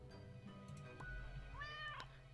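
A cat meows in the video game Death and Taxes, giving two or three short, clear calls over a steady low game-music background, with a rising tonal meow near the end.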